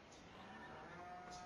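Cows moo in the Farming Simulator 2015 video game, a low drawn-out lowing heard at moderate distance over a steady background hum, with no talking.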